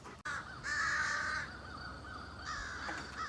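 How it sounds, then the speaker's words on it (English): Several crows caw outdoors in a few loud, drawn-out, harsh calls that rise and fall, with a sharp click near the start and no voices. "I'm not sure what the crows are up to, but looks like they're having fun."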